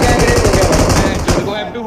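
Rapid automatic gunfire in the mobile battle-royale game BGMI, a dense, loud burst of shots fired in quick succession for over a second before cutting off, with a voice faintly under it.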